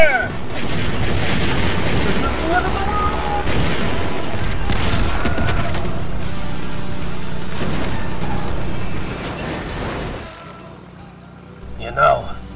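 A volley of gunfire from troops ordered to fire, dense booming blasts and crackling shots rolling over several seconds, loud and close, with voices speaking amid the noise before it fades out.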